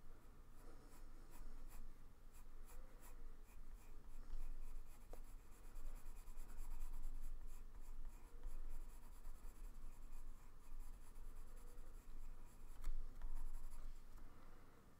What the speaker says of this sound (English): I'm not pressing too much on my pencils right now.